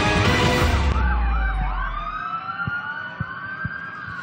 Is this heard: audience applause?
no